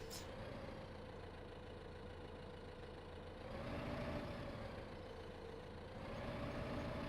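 A tractor engine drones steadily while lifting logs in the Farming Simulator 15 forestry game. The hum swells slightly twice, with no voices.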